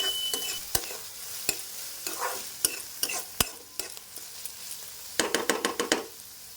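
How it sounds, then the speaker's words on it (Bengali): Chopped onion frying in hot oil in a pan while being stirred, with a continuous sizzle broken by sharp clacks of the spoon against the pan, close up and without speech. "পেঁয়াজটা ভাজা ভাজা হোক"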